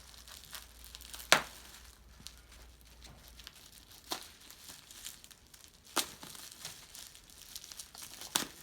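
Plastic packaging being cut open with a knife crinkles and tears in sporadic bursts, with a few sharp crackles standing out against a quiet background.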